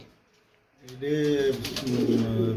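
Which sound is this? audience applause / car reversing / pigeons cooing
pigeons cooing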